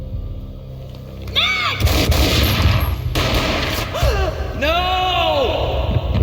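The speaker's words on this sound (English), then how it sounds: "A gunshot boomed and she fell down in slow motion." Gunfire in the Max Payne game booms loud and close as a sustained roar of shots, broken by sweeping whooshing effects and a human gasp, with no clear talk.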